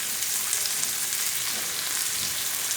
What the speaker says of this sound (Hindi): अब इनको करेंगे मिक्स और इनको पकाएंगे हल्का सा गोल्डन फ्राई होने तक